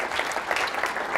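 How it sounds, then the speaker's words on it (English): An audience at a corporate talk breaks into brief, dense applause, with many hands clapping together in a steady wash of sound from a full room. "Give yourselves a round of applause"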